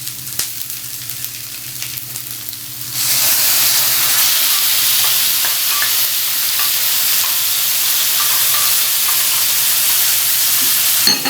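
Mince hitting a pan with browned onions and bursting into a loud, bright, steady sizzle that holds for the rest of the moment, after a quieter stretch of faint kitchen noise.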